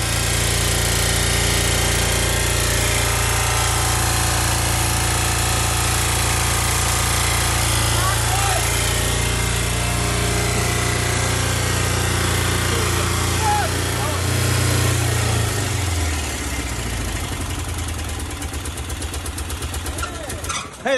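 An old bus engine runs rough and loud, a harsh continuous clattering drone that holds steady for most of the stretch and then starts to falter toward the end, with voices faintly present.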